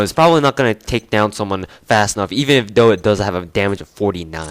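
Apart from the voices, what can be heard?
None of the usual background noises is heard.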